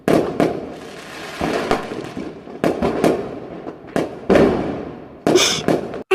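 Firecrackers go off in a rapid series of sharp bangs and crackles, loud and close, with bursts separated by short hissing decays and no talking over them.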